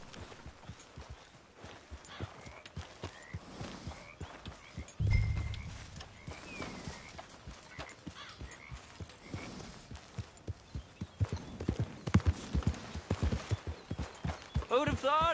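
Horse hooves in the Red Dead Redemption 2 video game, a steady rhythmic clip-clop of hoofbeats close by throughout, with voices talking over them.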